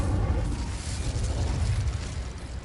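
Incendio fire spell cast in the Hogwarts Legacy video game, a loud sustained roaring whoosh of flame with a deep rumbling burst, steady throughout and heard alone.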